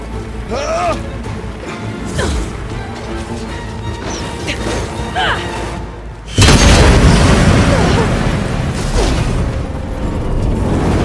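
Heavy explosive-ammo blasts in Horizon Zero Dawn: The Frozen Wilds, a series of loud booms and crashes culminating in a big roaring detonation, with shouted in-game dialogue over the action.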